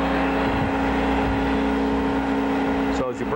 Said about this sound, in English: I have this set up to grind a plug lead right now, so I'll turn it on